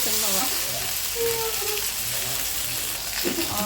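Fish frying in oil over a medium flame, a steady close sizzle and crackle running throughout with a few faint clinks.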